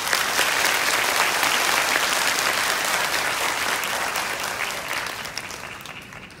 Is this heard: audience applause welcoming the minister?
yes